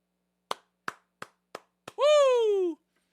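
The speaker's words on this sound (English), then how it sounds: "let's just give ourselves a congratulatory clap" Five sharp, evenly spaced hand claps ring out close and alone, followed immediately by a loud, drawn-out whooping cheer from a single voice.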